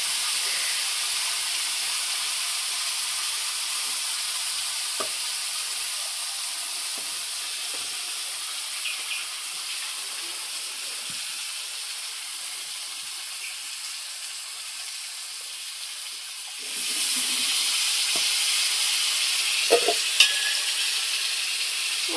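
Spices fry in a wok with a steady bright hissing sizzle, fairly loud and close, growing louder near the end with a few soft clinks and no voices over it.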